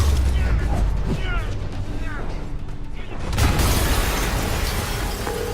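An explosion tears through a building in an animated Spider-Man episode, a loud booming burst over a dense rumbling din and mechanical clatter, with no voices.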